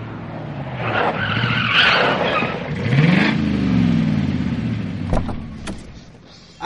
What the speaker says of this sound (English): Do you see that blue car coming here?